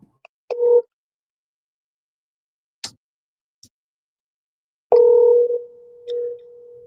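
A telephone gives two short electronic tone bursts while a call is being placed, with a few faint clicks in the near silence between them.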